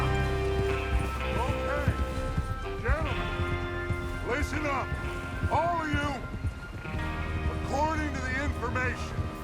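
Rhythmic hoofbeats of horses galloping in Red Dead Redemption 2 continue steadily under music with harmonic swells, as though a group of riders is moving along at pace.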